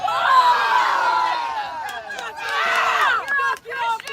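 A high school boys' soccer crowd of Phillipsburg fans shouts and jeers in displeasure at a play, loud sustained crowd noise swelling, dipping, then surging again with scattered individual yells.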